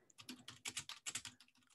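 Typing on a computer keyboard, a close run of quick irregular key clicks in short bursts, faint and without any voices.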